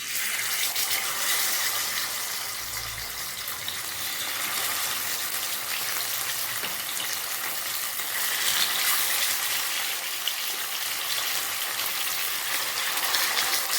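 Fish frying in hot oil for a Bahraini fish curry gives a continuous, dense hiss and crackle, steady and fairly close throughout, with no voices.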